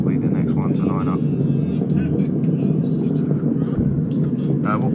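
British Airways Airbus A321neo jet on the runway: a steady low engine rumble heard from inside the cabin, with people talking over it.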